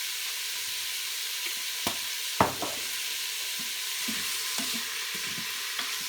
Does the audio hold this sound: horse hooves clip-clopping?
no